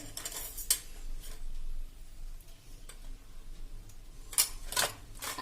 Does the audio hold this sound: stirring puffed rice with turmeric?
yes